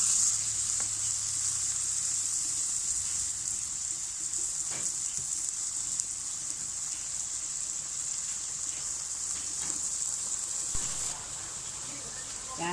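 Water poured into sizzling Thai chili paste in a pan, producing a loud, steady frying hiss that carries on evenly with faint stirring clicks.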